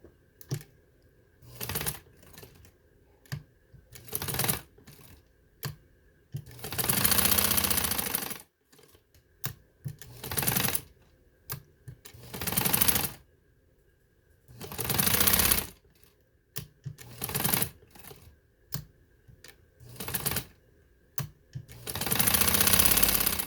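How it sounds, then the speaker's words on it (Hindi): A sewing machine runs in repeated bursts of rapid, rhythmic stitching along fabric edges of a cutwork sleeve and trouser piece, loud and close, with short pauses between runs and no talking. "चले मशीन की तरफ आते हैं। अब किनारे किनारे पे हमने सिलाई दे देनी है।"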